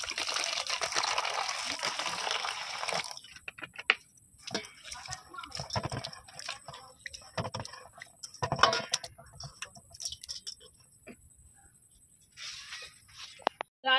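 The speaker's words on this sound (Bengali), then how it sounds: "ডালিয়া আর মুগের ডালটাকে প্রথমে খুব ভালো করে ধুয়ে নেব" Dalia and mung dal are washed in water: a steady rush of pouring water at first, then scattered splashes, sloshing and grain rattles in a bowl.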